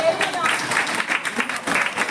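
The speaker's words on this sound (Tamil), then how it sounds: "அவங்களுக்கு ஒரு பலத்தை கைத்தட்டல் கொடுத்துடலாம்" Applause breaks out at a festive balloon-game celebration, a steady wash of clapping from a group that runs the full length with a few louder swells.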